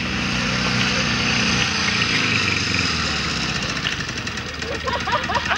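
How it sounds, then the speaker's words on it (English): A motorcycle engine approaches, its rough, knocking rumble steady and loud, shifting toward a faster rattling toward the end. "You hear the motorcycle?"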